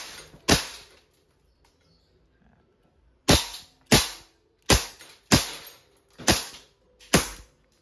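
Umarex Colt Python 2.5-inch airgun revolver firing pellets double action: one sharp crack, a pause, then six quick snapping shots in a steady, close, loud rhythm, with no talk.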